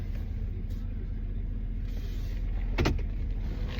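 A truck creeps into a parking spot with its engine idling as a steady low rumble throughout, and a brief hissing burst breaks in near the end.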